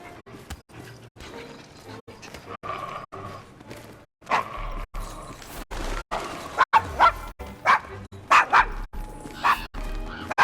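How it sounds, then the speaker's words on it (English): Barking and yipping from Desmond, a dog wary of strangers in a rough Victorian London slum in the game Assassin's Creed Syndicate, comes in sharp repeated bursts that grow louder and denser toward the end over a murmuring street backdrop. "Is your dog quite all right?"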